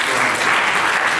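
A dense, steady burst of audience applause at an award ceremony, loud and continuous over a brief moment, with no voices over it.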